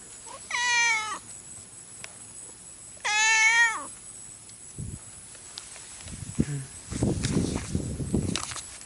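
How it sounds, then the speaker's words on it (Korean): A cat in Okinawa gives two drawn-out, clear meows close by, a few seconds apart, followed by footsteps and people talking. "고양이가 자꾸."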